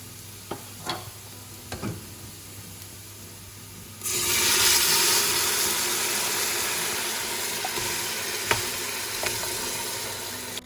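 Precooked beef tipped into a hot pan of lightly browned masala for Thalassery meat rice, sizzling loudly and steadily after a few quiet clatters and stirring scrapes, with occasional utensil knocks.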